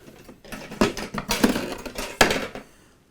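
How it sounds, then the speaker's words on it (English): A stainless steel bowl is set onto a Bosch Universal Plus kitchen mixer with several sharp metallic clanks and rattles, close and fairly loud, separated by brief pauses. "So you just put the stainless steel bowl on here."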